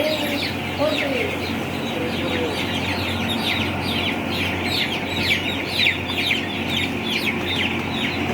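Chickens in a crowded poultry house cluck continuously throughout, with many birds layered together in a steady, dense din; a few brief chirps stand out near the start.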